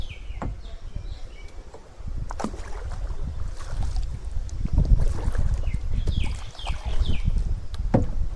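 A rowing boat moving across open water on a lake, with low rumbling wind buffeting the microphone and occasional knocks and splashes, faint birds in the distance.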